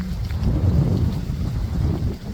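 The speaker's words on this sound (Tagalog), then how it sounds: "Malakas ang hangin." Strong wind roars across the microphone beside a large highway in Regina, Saskatchewan, in autumn, a loud buffeting rumble that gusts and swells for a couple of seconds with no talk.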